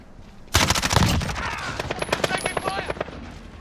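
A sudden burst of machine-gun fire in Call of Duty: Modern Warfare, loud and close at first, then continuing as a rapid rattling string of shots that gradually thins out.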